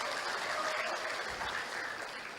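Audience applause at a university graduation ceremony in Tangerang, Indonesia: steady, fairly distant clapping from a large crowd that fades a little at the close.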